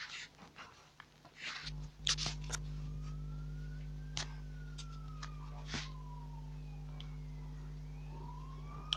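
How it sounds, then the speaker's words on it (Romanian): An ambulance siren wails in rising and falling sweeps from some distance, over a steady low engine drone, with a few clicks near the start. "Ce se aude? O ambulanță."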